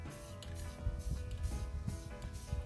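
Short hissing bursts of spray paint on a dresser come in a loose rhythm close by, each a brief airy spurt over a faint mechanical hum.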